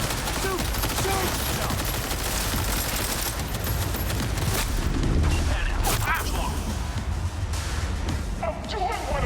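Bursts of automatic and rapid gunfire from a Cyberpunk 2077 shootout, loud and dense, with booms, mechanical clatter and shouting voices mixed in throughout.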